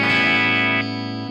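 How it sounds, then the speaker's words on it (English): Electric guitar with distortion played through a Fractal effects unit: a bright, sustained distorted chord rings loud and steady, then drops to a softer tone after about a second. "I can make a distortion."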